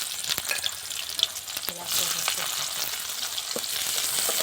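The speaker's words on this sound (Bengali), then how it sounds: "ভেজে নেব পেঁয়াজটা" Chopped onion hits hot oil with whole cumin seeds and sizzles steadily, growing into a denser, louder frying hiss after a couple of seconds, close and uninterrupted.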